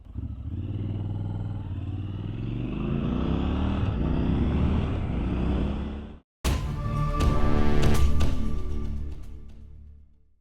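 A 2021 Triumph Scrambler 1200 XE motorcycle is ridden with a steady, loud engine drone and wind rush, cut by a brief dropout, then a rising rev with clattering mechanical noise up close.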